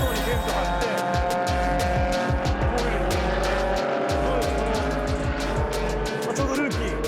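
Race cars at a Super Taikyu endurance event, among them the Rookie No. 32 liquid-hydrogen-engine car, scream past one after another with rapidly falling engine pitch and rhythmic revs, loud and close, with talk underneath.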